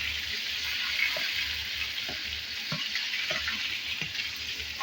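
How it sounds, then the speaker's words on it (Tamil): Ginger garlic paste fries in oil in a pan for a chicken gravy, a steady loud sizzle with soft repeated scraping of a spoon stirring through it, no voices. "இதில் நம்ம அரைச்சி வச்ச இஞ்சி பூண்டு பேஸ்ட் இதில் ஆட் பண்ணிக்கலாம்."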